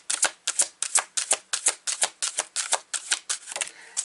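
Deck of tarot cards being shuffled by hand, a close, crisp series of about a dozen riffling bursts in quick rhythmic succession, with no talking.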